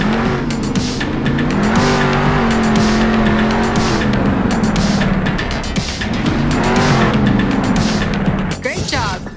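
A monster truck's engine revs and roars in the Monster Jam Steel Titans game on Nintendo Switch, rising and falling through steady throttle pulls, with tires skidding and squealing loudly near the end.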